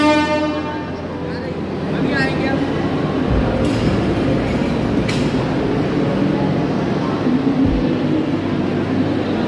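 A Vande Bharat Express train running, a continuous loud rumble and rushing roar as if heard from on board, with faint sounds in the background throughout.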